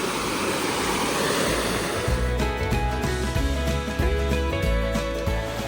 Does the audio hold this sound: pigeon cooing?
no